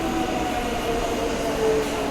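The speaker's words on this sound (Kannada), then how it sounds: "ಅದೇ ನಮ್ಮ ಟ್ರೈನ್" A passenger train on the Shivamogga to Bengaluru route rolls past close by with a loud, continuous rumble and faint wheel squeals.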